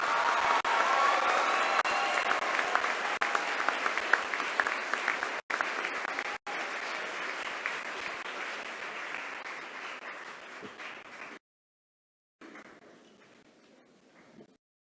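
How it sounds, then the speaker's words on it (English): A crowd gives a long, steady round of applause for new graduates of the class of 2017 at a graduation ceremony. The clapping dies out, and after a brief gap a fainter patter follows. "A round of applause for them, please."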